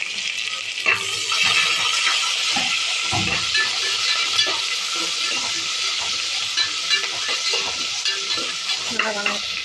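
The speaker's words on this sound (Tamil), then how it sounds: "ஒரு வெங்காயம் சேர்த்துருக்கேன் அது சேர்த்துக்கலாம் அந்த கருவேப்பிலை சேர்த்துக்கலாம் சேர்த்துட்டோம் இதை வந்து நல்லா வணக்கிக்கலாம்" Chopped onion and curry leaves sautéing and being stirred in a hot pan for mutton intestine curry, a loud continuous sizzle up close with scraping spoon strokes throughout.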